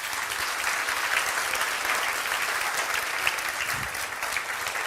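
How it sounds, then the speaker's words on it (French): Church congregation claps steadily during worship, a sustained, even wash of many hands applauding together at moderate loudness throughout. "Oh, si t'applaudis, t'applaudis réellement."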